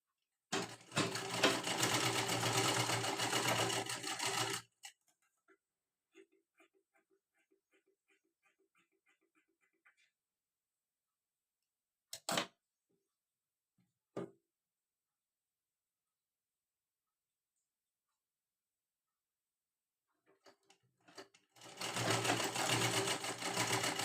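Sewing machine stitching a blouse in two loud bursts of rapid mechanical whirring at the start and end, with quiet clicks, fabric handling and a couple of sharp knocks between.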